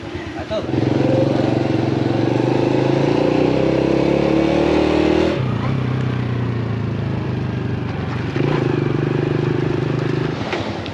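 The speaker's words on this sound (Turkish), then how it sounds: "Motosikletleri şöyle bir çekelim yine ufaktan." Motorcycles in Laos run and rev close by, a loud steady engine drone that drops to a lower idle and then rises again in a second rev, with a voice talking at times.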